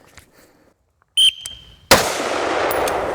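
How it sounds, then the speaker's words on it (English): A single AR-15 rifle shot fired from the low ready on an outdoor training range: one sharp, very loud crack that rings out in a sustained decaying tail after a brief beep and quiet lead-in. "one shot from the low ready"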